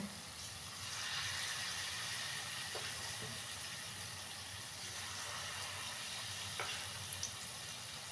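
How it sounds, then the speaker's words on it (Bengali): Palm fritter batter frying in hot oil, a steady, soft sizzling hiss that runs continuously at moderate level with a few faint clicks and no voices. "চলো প্রথমে আমি অল্প অল্প করে এটা ভাজা করি"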